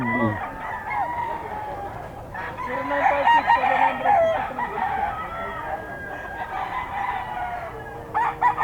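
Gamecock stags crow repeatedly at a Bocaue rooster market, their loud drawn-out calls overlapping with clucking and a busy background murmur of other birds and people nearby.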